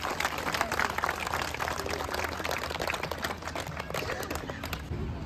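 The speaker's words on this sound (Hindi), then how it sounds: "एक दूसरे के लिए एक बार जोरदार तालियां बजाएंगे।" A crowd claps together at the inauguration of a parish gate, a dense, steady patter of many hands sustained throughout at moderate loudness, with faint voices mixed in.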